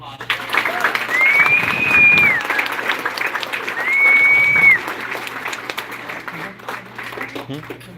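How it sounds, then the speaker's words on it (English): A crowd applauds at a naturalization citizenship ceremony, steady clapping that rises and falls, with two long whistles cutting through and a few voices mixed in before it thins out. "All right, let's have a big round of applause."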